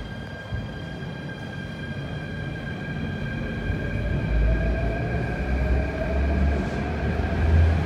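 Metro train pulling away from a platform on Hong Kong's Tuen Ma Line: steady low rumble and wheel noise building over several seconds, with faint high tonal whine from the motors, fairly close and continuous.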